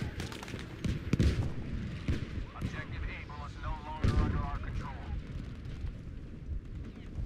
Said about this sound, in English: that was a good artillery on their team